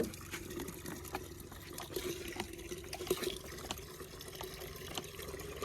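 Quiet, continuous trickling and splashing of water pouring into a vessel, with a faint steady hum underneath and small irregular splashes.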